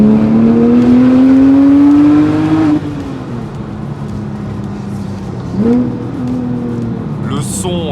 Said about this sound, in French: C'est une musique qui sort de ce moteur, qui sort de cet échappement.